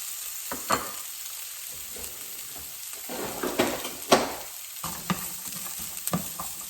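Chopped carrots and potatoes fry in a little oil, a soft crackling sizzle punctuated by distinct knocks and scrapes as the pieces are stirred around the pan.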